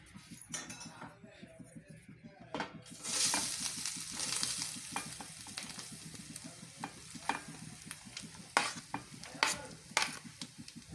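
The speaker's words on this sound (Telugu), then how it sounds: "ఇప్పుడు ఇందులోనే మనం తురుము పెట్టుకున్న కొబ్బరి తురుము కూడా వేసి వేయించుకుందాం" Grated coconut tossed into a pan with fried dry fruits for coconut laddus, a rise of sizzle followed by repeated spoon scrapes and clinks against the pan, close, no speech.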